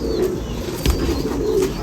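A domestic pigeon, one of a prized old Gauran breed kept in Nashik, coos in soft low repeated pulses, close and fairly steady, with no talk.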